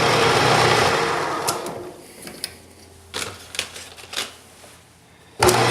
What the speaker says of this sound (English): keep the sandpaper moving, keeps it cooler